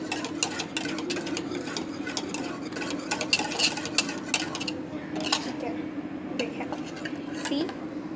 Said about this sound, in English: You have to mix it for a while.